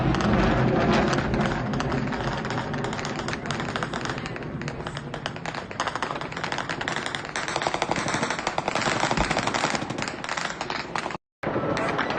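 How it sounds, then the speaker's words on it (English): Dense, relentless crackling bursts of distant gunfire and explosions around the port of Novorossiysk, Russia, fill the whole stretch, loud and continuous with barely a pause. "Look at all this heavy gunfire in pretty much every direction."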